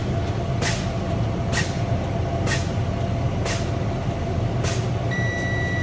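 Inside the cab of a class A truck during a CDL inspection, five evenly spaced sharp hisses of air bursting from the air brakes as the pedal is pumped to bleed pressure, over a steady idling engine rumble. A warning buzzer starts at the end.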